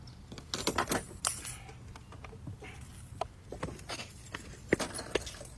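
A set of keys jingles and clinks in scattered metallic bursts as it is handled and taken from someone, fairly close, with light knocks and rustling in between and no talking.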